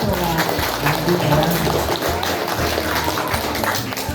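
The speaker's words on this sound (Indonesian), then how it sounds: "Tepuk tangan." Schoolchildren at an elementary school Ramadan program clap their hands together in a loud, dense burst of applause that continues steadily throughout, close and lively, with some voices mixed in.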